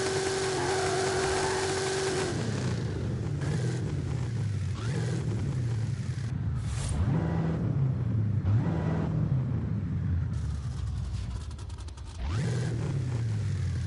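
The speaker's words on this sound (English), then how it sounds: "Not all of the cars, the muscle cars have that chug." Muscle car engine in Forza Horizon 5 rumbling with a deep, uneven chug that rises and falls through revs, loud and continuous with a brief dip near the end.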